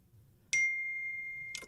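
A phone notification sounds two bright, ringing chimes about a second apart, the first holding a long, steady sustained tone before the second arrives, set against a quiet background.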